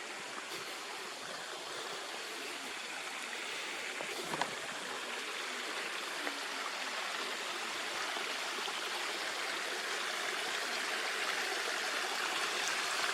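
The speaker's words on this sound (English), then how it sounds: "This is a tributary of Paroda river" Water rushes steadily in a tributary of the Paroda river running over hard manganiferous laterite, a continuous close, even flow with no voices.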